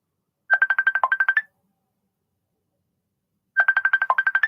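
A computer ringtone sounds in two identical bursts of rapid, bright chirping tones, about three seconds apart. Each burst is loud and clear with silence around it.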